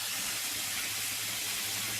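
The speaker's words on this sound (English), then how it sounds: "now that the fish is busy frying" Fish fries in oil in a tilt pan, a dense, even sizzle and hiss that stays loud and unbroken for the whole stretch.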